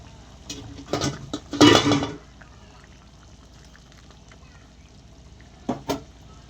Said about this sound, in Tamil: அடுத்து அரைச்ச தேங்காய் விழுது சேர்த்துக்குவோம்